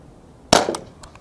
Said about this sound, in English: This is the last one I'm going to shoot on a boiled egg.